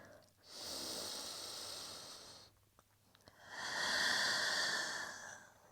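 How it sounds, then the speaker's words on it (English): Slow, deep yoga breathing in a downward facing dog pose, two long drawn breaths heard close and soft, each swelling and fading with a short pause between them. "Let's take a round of breath here in downward facing dog."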